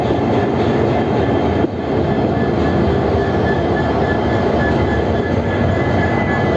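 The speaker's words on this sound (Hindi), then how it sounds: "locomotive WDP4T, WDP4" The Kaziranga Express, hauled by a WDP4 diesel locomotive on the Kolkata–Silghat Town route, rumbles past close by at night with a steady, loud roar of wagons and rails.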